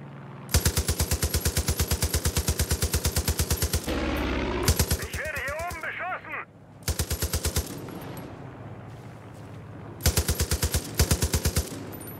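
Automatic gunfire in the video game Far Cry 5: several long, rapid bursts separated by short pauses, loud and dense.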